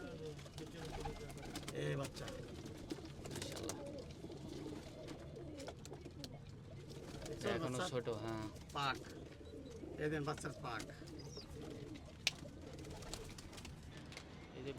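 Soft pigeon cooing repeats throughout over steady outdoor background noise, with occasional voices and rustling mixed in, as released pigeons fly up.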